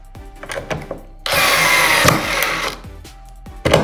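A Fanttik Nex L1 Pro electric screwdriver whirs steadily for a couple of seconds at its highest torque setting, loud and close, with a few clicks before and after.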